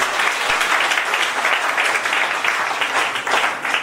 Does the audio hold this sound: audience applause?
yes